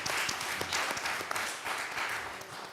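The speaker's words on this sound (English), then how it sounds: "I think that deserves a big round of applause." A round of applause rises from the audience at a community equity event, with moderate, steady clapping that holds for nearly three seconds, heard at a slight distance.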